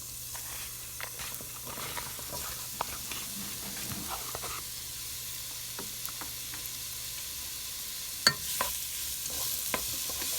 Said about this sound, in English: I'm gonna go ahead and put in our peppers, onions first to let them get a little head start on our spinach.